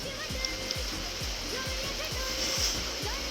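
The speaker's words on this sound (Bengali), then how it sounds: "গরম তেলে ভাজতে দেব" Singaras (samosas) frying in hot oil over a low gas flame give off a steady, close sizzling hiss that holds through the whole stretch, with soft low thuds repeating underneath.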